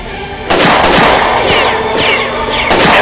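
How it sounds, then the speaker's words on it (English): Loud gunfire in a live-action Super Smash Bros. Mario versus Luigi fight, a few sharp cracks over a dense, busy action mix with bursts near the start and end. "I believe it is a gun of some sort."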